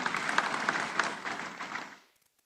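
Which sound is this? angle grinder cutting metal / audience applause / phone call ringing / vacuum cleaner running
audience applause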